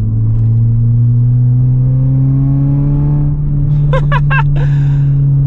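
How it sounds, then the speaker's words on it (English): A Mk4 Volkswagen Bora wagon with its muffler deleted drones loudly with a steady low tone, then the exhaust, hitting a pipe, breaks into a quick burst of sputtering pops and crackles. "the exhaust coming out is hitting this pipe. It's making that kind of like that sputtering kind of sound."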